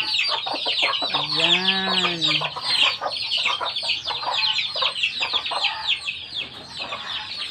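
Chickens and young chicks cluck noisily and continuously at feeding time, with a rooster-like call rising early on, under a brief spoken word.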